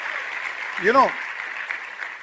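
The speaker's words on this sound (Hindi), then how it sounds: "कुछ तालियां थोड़ा ज्यादा हो सकती हैं" Steady, dense clapping from an audience at a recognition event continues throughout, with a brief voice rising over it near the middle.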